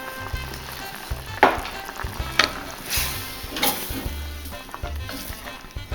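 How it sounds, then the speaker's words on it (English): Food simmering in a pan with salt and pepper for a Christmas meal, a soft steady sizzle with occasional stirring scrapes and light clicks, close and fairly quiet with no talking. "we'll let it simmer slowly"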